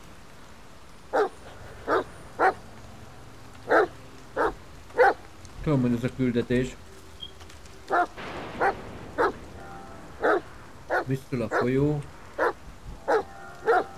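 A dog in the video game The Medium barks in short, sharp, repeated yelps spaced across the scene, fairly close, with someone speaking Hungarian between the barks over a quiet ambient background.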